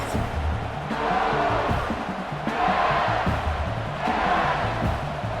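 Stadium crowd in a college football video game, Missouri at Tennessee, roaring and chanting in loud rising waves that swell and fade in a steady rhythm, with a commentator's voice faintly beneath.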